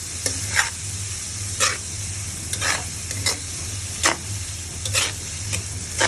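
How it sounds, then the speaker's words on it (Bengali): Chopped fresh local shrimp sizzling in a pan for shrimp chorchori, a steady fry under regular scraping strokes of a spatula about once a second, with no voices. "দিয়ে একটু ভাজা ভাজা করে নেব"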